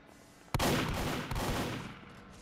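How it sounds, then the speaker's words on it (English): Two loud gunshots in a Backrooms video game, about three-quarters of a second apart, each booming close by and rolling into a long echoing decay, with no voices. "hear gunshots"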